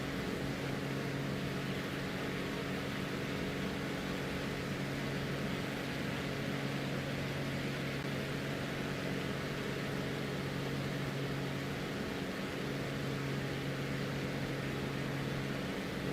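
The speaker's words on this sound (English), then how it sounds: "Is the plane too loud?" A steady, unbroken airplane engine drone plays throughout Microsoft Flight Simulator 2024, loud and continuous with no talk over it.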